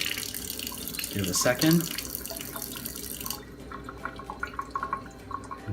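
Water runs from an Enagic Kangen K8 water ionizer in a steady flowing stream, loudest at first and then quieter, while a person speaks briefly over it.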